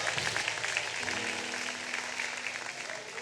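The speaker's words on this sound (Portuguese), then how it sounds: "Quem pode aplaudir ao Senhor, aplauda." A church congregation at a Sunday celebration service applauds in praise, a continuous, moderately distant patter of many hands with a faint sustained tone underneath.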